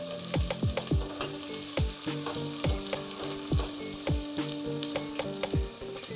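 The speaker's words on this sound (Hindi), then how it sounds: "लहसुन जब तक भूनता है हम इसे भूनेंगे" Garlic and onion fry in a karahi with a constant hissing sizzle, and a series of sharp, rhythmic knocks and tones sounds over it.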